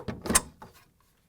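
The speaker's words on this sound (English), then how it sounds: "To remove the old door shelf retaining bar, we simply pull it up." Whirlpool/KitchenAid/Maytag refrigerator door shelf retaining bar pulled up and off, giving a few quick plastic clicks and rattles close up, then silence.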